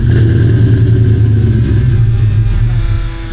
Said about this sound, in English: If it cuts that pump on. Oh, there it's back. Yep. There's the pump.